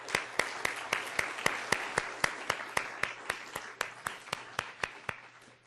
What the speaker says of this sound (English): I'd like to give all the Moot Court members a quick round of applause for all the help